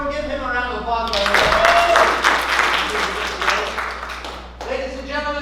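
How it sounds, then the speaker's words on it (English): An audience at a class show breaks into brisk, dense applause for about three seconds, bracketed by someone talking before and after it. "Give him a round of applause"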